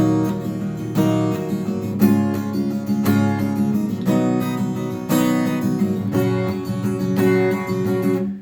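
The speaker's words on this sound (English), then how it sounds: "I just like the sound of the fingers on the acoustic guitar for this one" Fingers brushing across acoustic guitar strings in a steady strumming pattern, full chords ringing continuously with regular accents, close and fairly loud, no voices.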